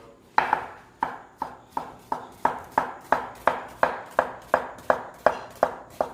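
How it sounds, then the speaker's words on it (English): Knife chopping an onion into small pieces on a cutting board, about fifteen crisp, evenly spaced chops in a steady rhythm, close and clear with no talking. "they're not crazy about onions, so I try to cut them up nice and small"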